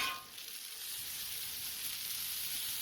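Onions sizzle steadily on a hot flat griddle in a smash burger cook, a continuous bright frying hiss that holds at a constant level for the whole stretch, close up, with no talking over it.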